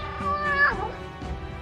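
A single cat meows in a drawn-out, rising-then-falling cry, fairly close and clear, with faint background sound around it.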